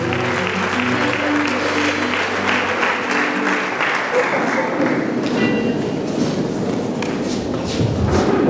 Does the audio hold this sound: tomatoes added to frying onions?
no